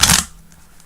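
Tarot cards riffled in a quick, loud burst of dense papery flutter lasting a fraction of a second, then a faint room hum.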